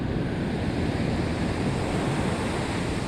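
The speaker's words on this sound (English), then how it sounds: "Look at these waves." Ocean surf breaks on a sandy beach at a surf-fishing spot, a continuous loud wash of rumbling waves and hiss with wind noise buffeting the microphone and no voices.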